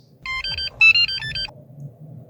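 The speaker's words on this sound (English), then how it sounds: "You'll wait a few seconds and you should hear a chime sound" An Easy Installer key programmer chimes to confirm a new key paired to a 2011-17 Dodge Charger: a short, clear multi-tone electronic chime lasting just over a second, then quiet.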